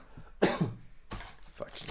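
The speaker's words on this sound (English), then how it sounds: "Cough sucks." A person gives a sharp, close cough followed by a rougher, throaty second burst, with some breathy noise afterward.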